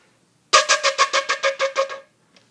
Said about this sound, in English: you have to blow so that you get mostly air sounds.